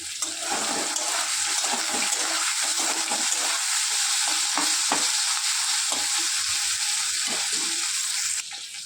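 Onion and green chili frying in hot oil in a pan while cooking a Bengali puti fish curry, with a steady, loud sizzle and scraping stir strokes running throughout before easing slightly at the end.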